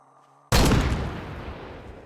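A single loud gunshot from a .40 caliber hand cannon in the game 7 Days to Die with a Tarkov mod, a sharp close blast after a quiet hum, followed by a long booming, decaying echo.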